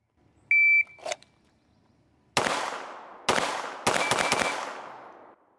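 A shot timer's electronic beep, then four to five quick pistol shots drawn from a holster during a twenty-round Alpha drill, loud sharp cracks in three bursts with a ringing tail, no talk.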